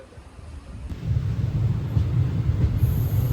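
A passenger train runs on curved track at a station, a low rumbling roll that starts quiet, then swells after about a second and holds steady and fairly loud, with faint wheel clatter and no talking.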